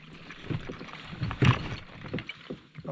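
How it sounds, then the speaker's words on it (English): Hobie PA14 360 kayak raised at the stern and dropped onto a C-Tug cart, giving a few hollow plastic knocks and a firmer thud midway, close and fairly quiet. "pick up the back of the kayak"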